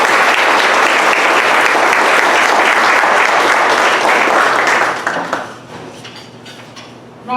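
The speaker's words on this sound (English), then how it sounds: "So let's give her a big round of applause." Dense, loud audience applause at a community forum on George Floyd, sustained for about five seconds before tapering to scattered claps, with a voice faintly under the fade.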